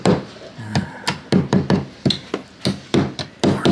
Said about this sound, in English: You can either try to hammer them in